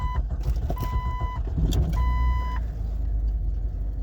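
A 2001 Jeep Cherokee running low on gas, with a misfire, drives up the road, its engine rumbling steadily and close, while two high electronic beeps chime over the engine noise.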